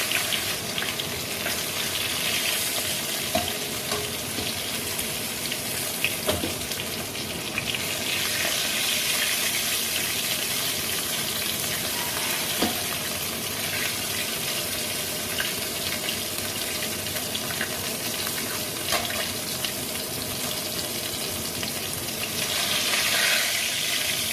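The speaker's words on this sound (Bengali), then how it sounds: "মাছগুলো খুব ভালো করে ভাজা হয়ে গেছে এখন এগুলো কড়াই থেকে তুলে নেবো" Tilapia fish frying in oil in a wok: a loud, steady, broadband sizzle that runs unbroken for the whole stretch, with no voices over it.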